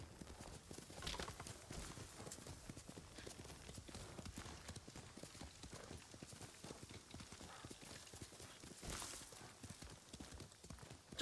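Steady clip-clop of horse hooves in the video game Ghost of Tsushima at a brisk walking rhythm, continuous and fairly close, with a faint voice murmuring in the background.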